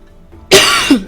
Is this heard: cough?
yes